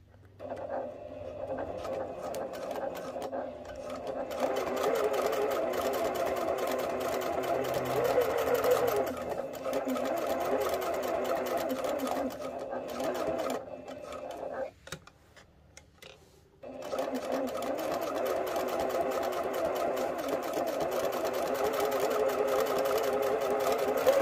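A sewing machine runs long basting stitches around a round tuffet footstool, a fast steady mechanical ticking and whir close by that stops briefly midway and then resumes, with a voice talking faintly beneath it at times.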